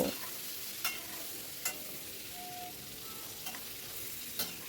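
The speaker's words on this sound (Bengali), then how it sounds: "বেগুনটাকে একটু ভাজা ভাজা মতো করে নেব" Brinjal sizzling in a pan under a steady hiss, with several sharp scraping stirs of a spatula at regular intervals.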